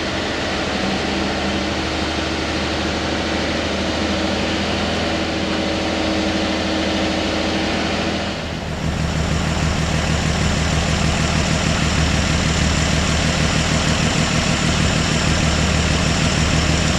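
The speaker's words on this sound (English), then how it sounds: "Give her a little high idle." A 1955 Chevy engine, a long-neglected junker being woken up in spring, runs steadily at a raised high idle, a loud continuous drone that steps up slightly partway through and holds even and alone.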